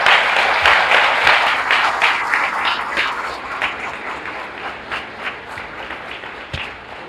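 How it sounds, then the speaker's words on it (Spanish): An audience at an academic investiture ceremony applauds a professor, a full round of clapping that starts strong and gradually thins and fades. "me refiero a mi querido profesor Rafael Albuquerque, para quien pido un aplauso."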